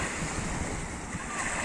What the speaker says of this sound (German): hier ist jetzt der Strand von Magic Life mit dem Meer.